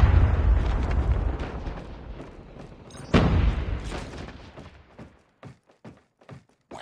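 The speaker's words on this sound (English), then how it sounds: "hostile Predator missile inbound." A Predator missile strike in the mobile shooter Call of Duty Mobile lands as a loud, sharp blast midway through, set against dense game gunfire and rumble that thins into a few scattered pops and bursts afterward.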